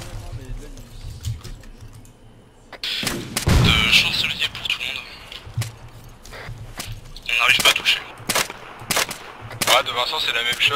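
Bursts of rifle and automatic fire in the military shooter Arma 3 during a co-op mission, loud clustered volleys with gaps between, mixed with keyboard clicking and people talking.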